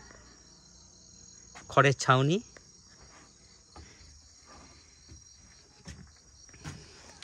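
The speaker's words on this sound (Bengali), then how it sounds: "রাত্রে ঝিঝি পোকা ডাকছে" Crickets in a forest near a cottage in the Ayodhya hills of Purulia at night keep up a steady, high, unbroken trill throughout, with a brief burst of nearby talking partway through.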